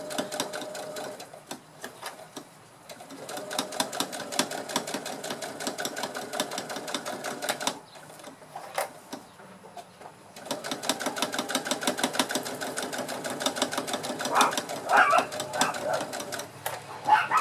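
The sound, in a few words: sewing machine stitching a straight-stitch topstitch on a backpack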